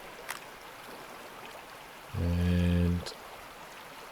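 Bucket of water poured out in the video game Gold Rush, a single short whooshing splash of under a second that stands out against quiet background hiss, with a brief spoken word just before.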